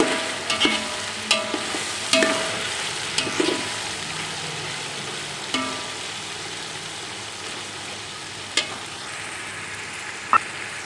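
A spoon stirring green chillies and tomatoes frying in a pan for chicken biryani, with a steady soft sizzle and occasional close scraping, clinking knocks against the pan.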